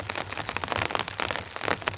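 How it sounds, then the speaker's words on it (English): Rain patters against a camping tent in a heavy rainstorm, an uneven scatter of close, crackling drops tapping the fabric with no talk. "the rain's back just in time for pack up"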